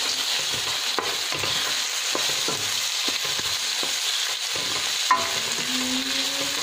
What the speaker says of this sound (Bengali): ডালগুলো এর সাথে কিছুক্ষণ আগে ভেজে নেব